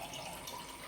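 Hot water splashes steadily into a pressure cooker for a brief moment, a close, continuous watery rush with no voices.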